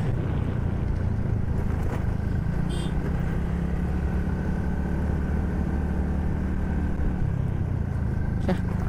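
A TVS Ntorq scooter being ridden on the road gives a steady, close engine drone mixed with wind and road rumble that holds evenly from start to finish.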